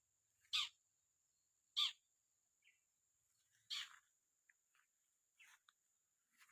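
A long-tailed shrike parent bird calls near its nest among short oil palms: sharp, high calls repeated a few times at irregular intervals, then fainter shorter notes, over a quiet background with a thin steady insect-like whine.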